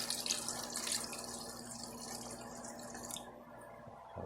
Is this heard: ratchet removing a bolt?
no